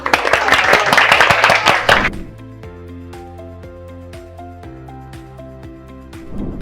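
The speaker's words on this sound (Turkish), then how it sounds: "Alkış." Loud, close applause erupts at a student's graduation as a certificate is handed over, cutting off after about two seconds to leave gentle piano-like tones playing on.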